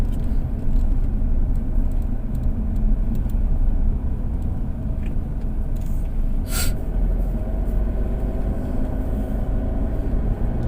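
Steady road rumble and engine drone from a motorbike cruising along a road in Bang Saen, Thailand, continuous and fairly loud throughout with a brief hiss near the middle.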